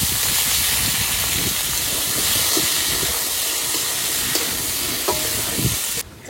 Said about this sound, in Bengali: চাল কুমড়ো দিয়ে একটু নাড়াচাড়া দিয়ে নিলাম,